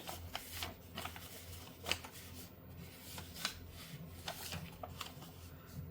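Tarot cards being picked up and shuffled by hand during a chart reading, giving soft repeated riffles and flicks at close range, quiet and steady with no talking.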